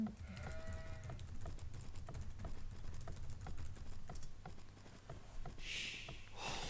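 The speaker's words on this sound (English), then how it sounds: "I was just typing in the chat once again" Quick keystrokes on a computer keyboard patter in an irregular run of soft clicks, fairly faint, alongside a low background hum and a brief bleating game sound.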